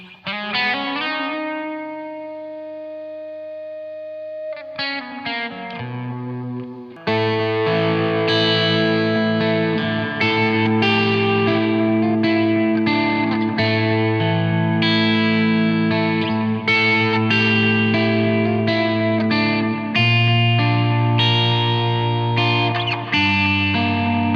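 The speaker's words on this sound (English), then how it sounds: "I can get beautiful sustain and even feedback using a low gain tone" Heavily effected electric guitar with a Fernandes Sustainer pickup, long sustained, ringing notes and feedback on a low gain tone, a soft held tone at first, then louder distorted playing with notes swelling and holding.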